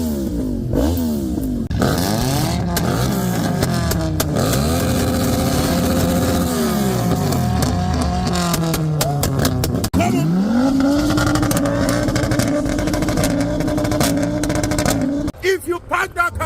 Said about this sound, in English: Rev the fire truck. Rev it.